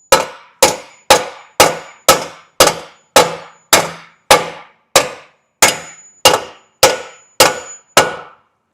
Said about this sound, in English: we're just going to keep hitting it with a hammer